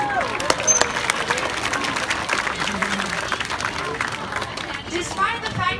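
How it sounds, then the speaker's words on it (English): Audience applause fills an aquarium's beluga whale show in Vancouver, a steady dense clapping from a large crowd with scattered cheers, lasting throughout at moderate loudness. "I think we can give both the trainers and of course both of our whales a good round of applause."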